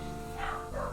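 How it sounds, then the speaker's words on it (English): Household dogs bark indoors in a short, continuous burst of a second, close enough to be clear and fairly loud, with no talking over them. "Sorry if you can hear my dogs in the background."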